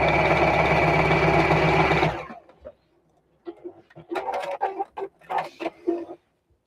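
A sewing machine stitches across jersey fabric for a tote bag handle, a steady fast whirring run for about two seconds before stopping, followed by quieter handling and rustling of the fabric.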